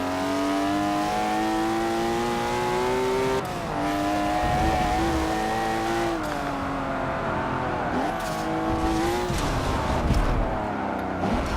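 A BMW M2 race car engine in the Forza 7 racing game drones loudly and steadily near the end of a race, with pitch rising and dipping through gear shifts, brief tire squeal and other cars close by.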